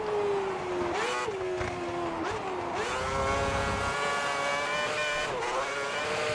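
An F1 car from the F1 2010 video game screams through a dry qualifying lap on the Canadian track, loud continuous engine whine with pitch rising through gears and dipping at shifts, no voices.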